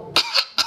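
A voice imitates a small child's cough: three short, sharp, breathy coughs, close and loud, in a quick uneven rhythm with no talking.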